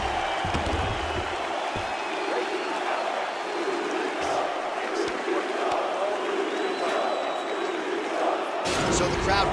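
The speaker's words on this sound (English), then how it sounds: "So the crowd voicing its appreciation after that round." Arena crowd in EA Sports UFC 4 cheers and roars steadily after a fight round, with a sustained wash of voices, occasional thuds, and a louder swell near the end.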